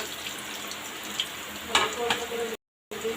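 Leafy greens fry in a pan in a small batch, giving a continuous close sizzle with a few brief crackles and bumps, cut by a short moment of silence near the end.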